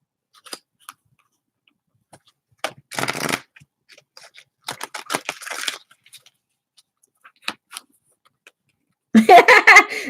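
Oracle cards shuffled and drawn at a table: scattered light ticks and flicks separated by silence, with short bursts of riffling and one longer flurry at the end.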